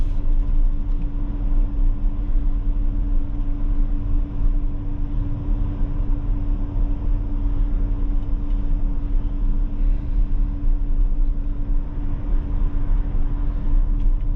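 Inside a 2021 Ford Bronco WildTrak four-door on the road there is a steady low rumble of engine and road noise with a faint hum, loud and unbroken throughout.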